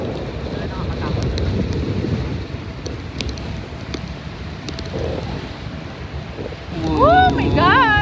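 Strong wind roars and buffets the microphone outdoors, loud and continuous with gusty swells, while near the end a voice cries out excitedly over the noise.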